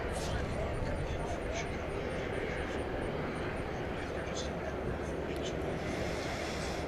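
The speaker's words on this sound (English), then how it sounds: "That's a 13-year-old 747-8." A Boeing 747-8 jet at DFW Airport gives off a steady distant engine roar that holds for several seconds, with faint outdoor background noise.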